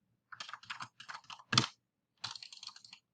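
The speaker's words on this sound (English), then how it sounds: "Literally as you're typing, you can see it change over here." Bursts of typing on a computer keyboard, quick soft key clicks in short clusters with pauses between and one louder stroke, close and alone without speech.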